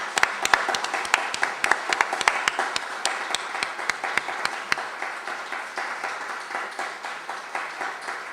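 A live audience at a talk on living the message of love applauds, starting with sharp, distinct claps and settling into steady, continuous clapping that holds for several seconds with no speech over it.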